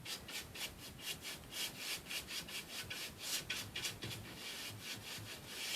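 Excess paint rubbed off a wooden picture frame with quiet, rhythmic back-and-forth strokes, soft and close, with no talking.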